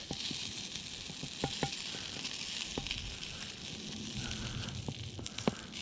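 Steak laid over a campfire sizzles and fries in a continuous bright hiss, with scattered pops and crackles close by, steady throughout and without talk.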